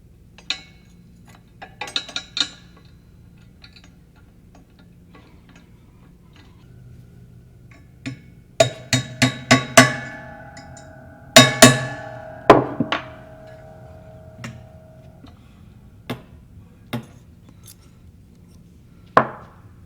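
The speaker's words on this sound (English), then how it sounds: "I'm going to use the punch, clamp it, and then hammer down just the tail end of this" Metal ring stock struck with a hammer on a punch: sharp metallic taps, first a few light ones, then clustered ringing hammer blows with brief resonant tones, followed by scattered isolated strikes.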